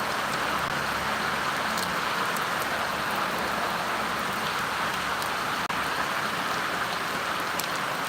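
Steady rain falls outdoors in an even, dense hiss with scattered sharper drop ticks, continuous and moderately loud with no voices.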